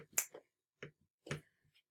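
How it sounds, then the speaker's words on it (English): A few sharp, dry finger snaps ring out close and quiet, spaced apart with brief silences between, the first snap the loudest. "When I snap my fingers, I should be back."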